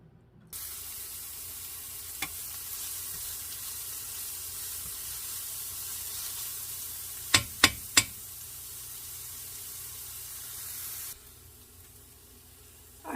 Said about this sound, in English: I'm going to start cooking my onions